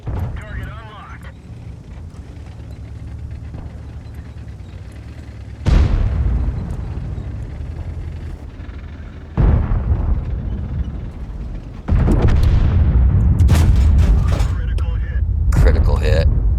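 Heavy booming shots from a Kanonenjagdpanzer tank destroyer gun in World of Tanks, three loud blasts spaced several seconds apart, each followed by a rumbling tail, with a voice talking over the low engine drone.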